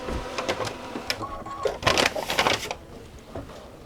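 Sewing machine stitching over a basting line on Tyvek, quiet close bursts of rapid mechanical clatter that start and stop.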